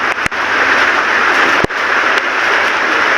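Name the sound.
rain falling during a flood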